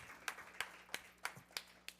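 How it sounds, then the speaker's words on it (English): Six evenly spaced hand claps ring out faintly at a board meeting for Kevin Robinson, a sparse steady rhythm in a quiet room. "clap your hands for Mr. Kevin Robinson"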